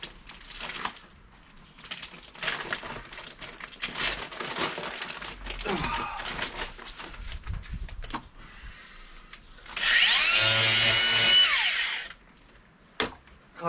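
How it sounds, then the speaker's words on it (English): A grinder used while seeding microgreens makes a loud, steady whirring burst lasting about two seconds. Quieter rustling and handling noises come before it. "Kind of like a multi-tool, that grinder."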